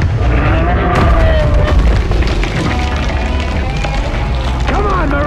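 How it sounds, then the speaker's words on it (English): An explosion detonates in a post-apocalyptic monster battle with Marines: a loud, rumbling blast fills the scene and rolls on under shouting voices and a roaring, chaotic din. "Detonating in 3, 2,"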